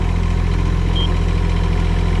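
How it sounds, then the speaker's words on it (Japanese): A rice transplanter's engine idles at a steady, even throb, running close and continuous without changing pace. "それではエンジンかけます"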